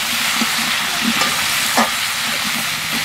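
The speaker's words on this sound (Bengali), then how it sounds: "আমার সবজিগুলো ভাজা ভাজা হয়ে গেছে" Mixed vegetables including pumpkin and potato fry in a pan with salt and turmeric, a steady close sizzle broken by a few soft stirring knocks and scrapes, without speech.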